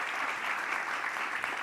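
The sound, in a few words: audience applause for the organizer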